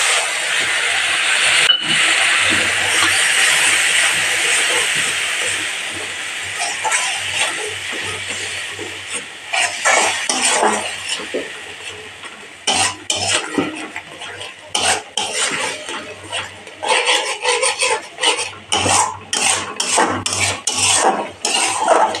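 Spice paste hitting hot oil with browned onions in a pan, a steady loud sizzle that settles, then rhythmic scraping and clinks of a spoon stirring against the pan, no talk.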